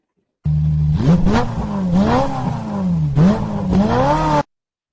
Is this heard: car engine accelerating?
yes